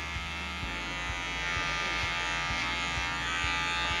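An electric hair clipper fitted with a guard and its lever set high, cutting a fade: a steady close-up motor buzz with faint rhythmic ticks as it passes through hair.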